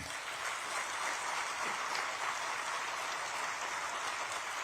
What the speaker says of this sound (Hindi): जोर से ताली बजाना